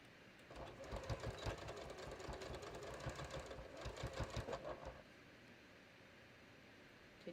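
A sewing machine stitches a pocket on a raglan sleeve top in a steady rapid whir with a brief dip, then stops abruptly, leaving faint room noise.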